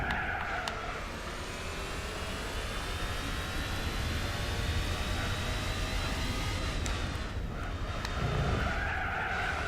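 Rally car in Gran Turismo 4 racing flat out, a continuous loud engine whine with sustained tyre skidding and squeal through the corners, steady throughout with no voices.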